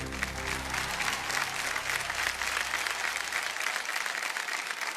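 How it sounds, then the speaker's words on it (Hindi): Studio audience applause for two guests on the game show Kaun Banega Crorepati, a thick, sustained roar of clapping that starts over a fading musical tone and continues evenly to the end. "जोरदार तालियां बज जाए हमारे दोनों मेहमानों के लिए।"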